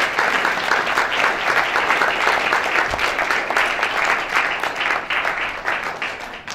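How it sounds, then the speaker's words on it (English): A large audience at a career forum bursts into dense, sustained applause, a loud steady wash of many hands that holds strong throughout and eases slightly toward the end, with no speech over it. "Let's give them a round of applause as they are heading out as well."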